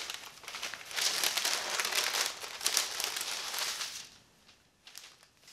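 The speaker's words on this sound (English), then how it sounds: "then I flip it upside down onto my parchment paper" Sourdough einkorn dough with olives being flipped onto parchment paper, giving a quiet, close crinkling and rustling of the paper that lasts a few seconds and then fades into softer scattered rustles.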